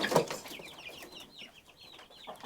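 Chickens cluck softly at an off-grid homestead, laying hens mixed with young dual purpose chicks, a louder burst at the start followed by scattered faint calls throughout.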